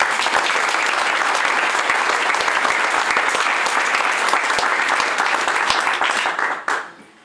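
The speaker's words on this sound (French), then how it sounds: "ce soir, je vous demande de l'applaudir." Sustained, loud audience applause fills a hall at a Munster cheese guild ceremony honouring a new master cheesemaker, steady throughout before tapering off sharply near the end.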